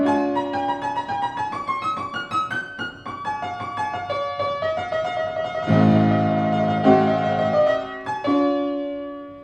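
Solo piano plays a flowing phrase with a broken-chord arpeggio running through it, then a brighter ornamented trill and a fuller chord near the end, ringing clearly with no voices.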